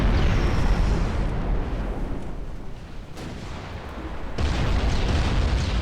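Warship guns firing in a naval battle game, heavy booming blasts with rumbling low roar that dips midway and swells again, loud and close with no speech.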